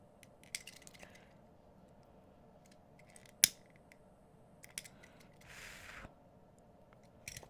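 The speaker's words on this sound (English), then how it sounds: "cut it leaving a short tail and melt the end" Scissors snipping bead thread to leave a short tail, a few small close clicks and one crisp snip, with faint handling rustle between in a quiet room.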